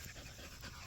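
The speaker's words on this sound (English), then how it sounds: "I don't know who these dogs are, but they are adorable." Several dogs, including a puppy, on a 12.5-acre Kentucky homestead, one panting steadily and close in a fast, breathy rhythm with no talk over it.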